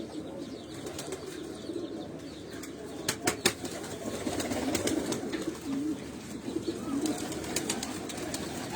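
Pigeons coo softly on a rooftop loft while wings flap in a few quick bursts, faint and somewhat distant over steady outdoor background, with no clear talk.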